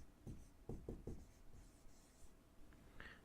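Pen writing on paper, a few short scratchy strokes close to the microphone, quiet and alone in a still room.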